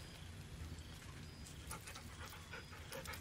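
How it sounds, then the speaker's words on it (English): The dog Scratch in the video game Baldur's Gate 3 panting, quick rhythmic breaths close by, quiet, over a faint low background hum, with no talk. "Oh, he's such a good doggy."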